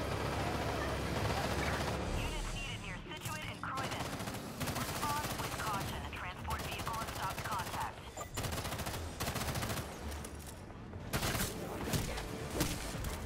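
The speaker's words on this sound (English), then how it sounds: "You already hear gunfire." Rapid, sustained gunfire from the video game Gotham Knights on PS5 rattles almost continuously in dense bursts with short gaps, loud and close throughout.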